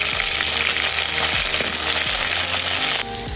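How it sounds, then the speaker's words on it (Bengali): Potatoes fry in hot oil, a loud, continuous sizzle with a few light scraping stirs, close and steady before easing slightly near the end. "প্রথমে আলু ভাজা হবে।"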